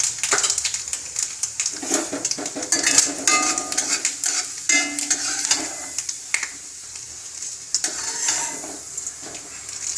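Mustard seeds and urad dal crackle in hot oil during tempering for a yam dish, with steady sizzling and spattering, and a utensil stirring and scraping against the pan, close up throughout.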